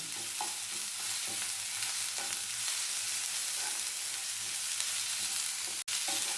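Rice frying lightly in a pan for Kattae pongal, a constant dense sizzle close up with faint stirring, steady and unbroken apart from one brief click near the end.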